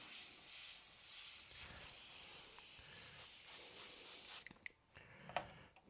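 An airbrush sprays paint in a steady, close hiss that runs unbroken for several seconds, then breaks into short stop-start bursts as the trigger is eased on and off.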